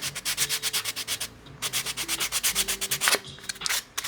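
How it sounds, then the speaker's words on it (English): Orbital sander working 150 grit sandpaper into the corners of carved olive wood, a rapid pulsing rasp with repeated short strokes, close and steady, briefly pausing before resuming. "I'm using one of my orbital wheels to get the corners here"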